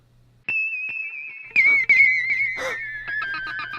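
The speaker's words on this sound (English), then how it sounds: "the next technique we're looking at is called the ghost, because it sounds like a ghost" An electric guitar sustains a high, wavering tone that slowly bends downward with the whammy bar, producing an eerie whistling ghostly wail with brief scratchy noises and picking in between.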